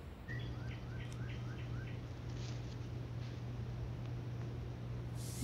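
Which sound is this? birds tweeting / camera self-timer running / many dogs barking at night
birds tweeting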